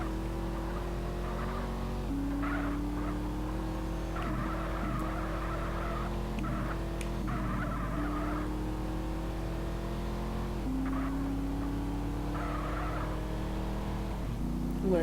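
A fast car in GTA San Andreas drives with a steady engine drone that rises and drops as it shifts, with tires skidding and squealing at intervals, loud and continuous throughout.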